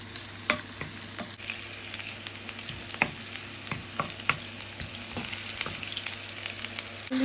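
Chicken liver and onion frying together in a pan, a steady close sizzle with scattered crackling pops throughout and no talking.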